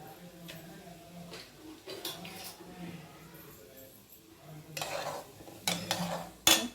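Chana dal and urad dal are stirred in a pan, soft scraping with occasional metallic clinks of a spoon against the pan and light sizzling, under a person talking.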